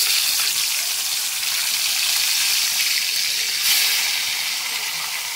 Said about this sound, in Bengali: দেখো, মাছটাকে লাল করে ভেজে নিচ্ছি